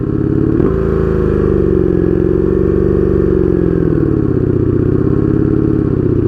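A Honda Magna 750 motorcycle with a straight pipe exhaust runs loud and close, its deep steady engine note rumbling without pause and dipping slightly in pitch as it idles and revs.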